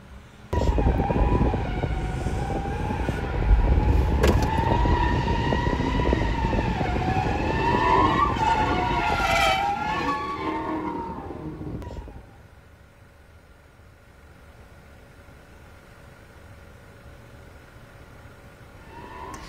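A loud car engine roars and revs close by at an intersection for several seconds, then cuts off abruptly, leaving faint distant traffic hum.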